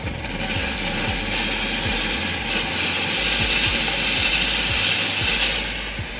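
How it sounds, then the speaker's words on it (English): High-pressure steam blasts residue off a gold ring in a jeweler's workshop, a loud continuous hiss lasting several seconds over a low mechanical throb with a regular pulsing rhythm. "Okay, so that was just high pressure steam."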